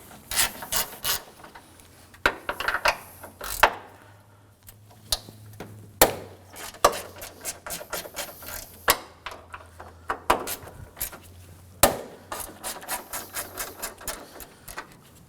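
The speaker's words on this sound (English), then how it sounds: "we're going to start by removing these 3 10mm bolts using a 10mm socket" Repeated ratchet clicks and short metallic rattles as a 10mm socket ratchet loosens three 10mm bolts on the upper bar over the AC condenser fan of a 2014-2020 Acura MDX; close, bursty clicking runs throughout with brief pauses and a low hum underneath.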